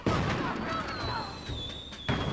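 Cartoon cannon blasts boom at the start and end of a short stretch of animated action, with whistling projectiles and sparkly effects in between.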